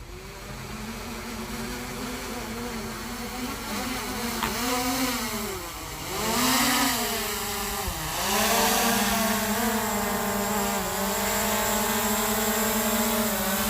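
A camera drone takes off at sunrise, its steady, close propeller whine shifting pitch repeatedly as the motors speed up and settle into a loud, continuous buzz.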